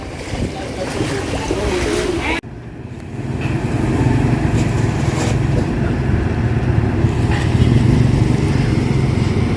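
A flood pumping station running at the Malabon–Navotas boundary during monsoon flooding: a steady, loud low mechanical drone and rushing water that continues for the whole stretch, with no break.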